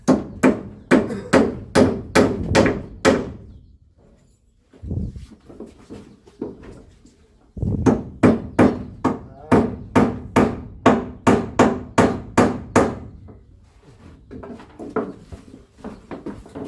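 Rapid hammer blows strike in close, loud bursts of about six to eight even beats, pausing between rounds, with quieter knocking and shuffling in the gaps; no talk.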